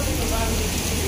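Steady rain drums on an umbrella held overhead outdoors, a dense continuous patter up close with no break over the short stretch.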